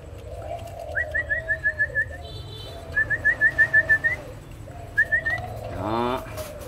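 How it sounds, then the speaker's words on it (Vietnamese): Collared doves kept in a cage cooing in repeated rhythmic series of soft, close hoots, with a brief burst of wing fluttering near the end over a low, steady background hum. "Vẫn còn rung cánh này các bác."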